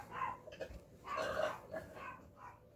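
Dogs bark and yip at a distance, a few scattered muffled barks with a longer burst in the middle.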